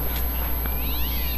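A cat meows in the Minecraft Mo'Creatures mod, a rising, drawn-out cry late in the clip over a loud, steady low background hum, with no talk.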